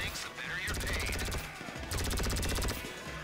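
Rapid bursts of GTA V Online gunfire, loud and close, in two sustained volleys separated by a brief pause.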